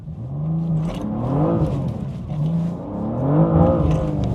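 A 2024 BMW M2 with a manual gearbox pulls out of a junction under hard acceleration. Its engine note climbs through two rising pulls with a brief dip between them, loud and close, with no talking.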